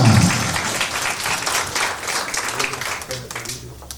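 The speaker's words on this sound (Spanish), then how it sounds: "para quien también solicito cariñosos aplausos" Guests at a 50th birthday celebration give warm, dense applause, loud at first and slowly thinning, with a voice briefly audible at the start.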